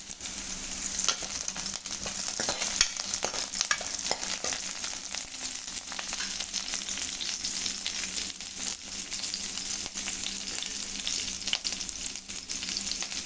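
Onion fries in an oil-filled pan with a steady, close sizzle and a few stirring scrapes, continuous and fairly loud, with no voices.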